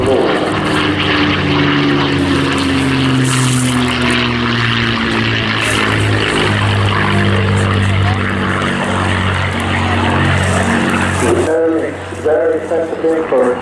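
A P-51 Mustang fighter with a Packard Merlin engine passes at an airshow, its propeller engine drone loud and sustained with a slowly shifting pitch before dropping away near the end, while a commentator talks over it.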